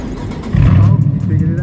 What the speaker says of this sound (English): He want to rev the car up so bad for y'all.